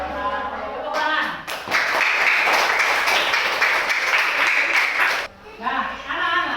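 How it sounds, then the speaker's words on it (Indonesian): A classroom of children applauds together, a dense steady burst of clapping lasting several seconds, loud and close, with voices briefly audible before and after it. "Tepuk tangan."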